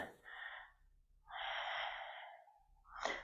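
Slow, deep breaths during a yoga stretch, close and soft, with long airy inhales and exhales separated by short quiet gaps.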